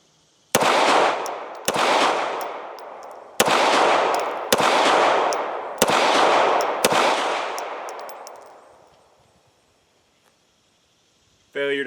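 An ATI 1911 9mm pistol fires six sharp, loud shots at an outdoor range, spaced roughly a second apart, each with a long echoing tail that fades to near silence afterward.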